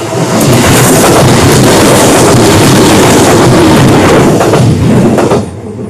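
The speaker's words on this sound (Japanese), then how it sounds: "こっち側の電車が来るようです。" A Seibu Tamagawa Line train passes very close at the Haketa open culvert, a loud, continuous roar and rumble that fills the clip before easing off at the end.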